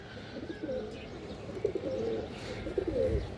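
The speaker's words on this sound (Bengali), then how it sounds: "এটা মাদি কবুতর, মাশাআল্লাহ একটা মাদি।" A female pigeon from a pigeon collection coos softly in a few short, repeated throaty phrases, close by and fairly quiet against a light room background.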